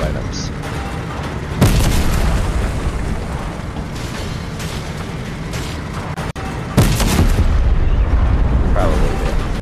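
A tank in the Fortnite video game blasts objects apart, with two loud, deep booms several seconds apart over a constant bed of game noise and rumble.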